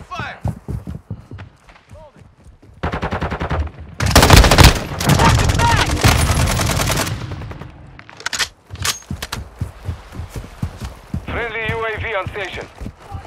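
Rapid bursts of automatic gunfire crackle in a Call of Duty firefight, with a loud dense stretch of shooting in the middle, scattered shots around it, and voices talking over the action.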